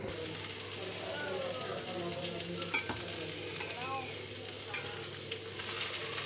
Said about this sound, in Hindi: अभी मैं परवल को फ्राई कर रही हूँ